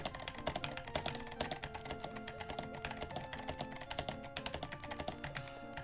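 Loud, rapid computer-keyboard typing while playing the game Mario Teaches Typing: dense, uneven clattering keystrokes close up, continuous with no talking.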